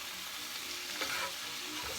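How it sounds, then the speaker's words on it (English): Vegetables sautéing in a pan get a firm stir, a steady close sizzle with a brief scraping swish from the spoon in the middle. "First I'm going to give it one more good stir."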